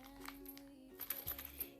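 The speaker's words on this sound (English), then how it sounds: "There's some metal ends." Metal zipper ends for a sewing project clinking together, a few faint light metallic chinks and taps close by in a quiet room.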